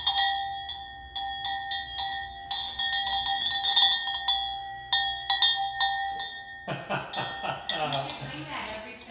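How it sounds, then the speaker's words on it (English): A bell is struck repeatedly with bright, ringing tones that overlap as they decay, followed by a person talking nearby. "Ring the bell."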